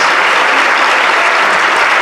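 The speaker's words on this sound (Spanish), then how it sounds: "Vamos a darle un fuerte aplauso a nuestros queridos Michael, Paul, Stephen" A convention hall crowd at a Star Wars actors' round table panel bursts into loud, dense applause, a thick continuous roar of many hands clapping close by, with no talk over it.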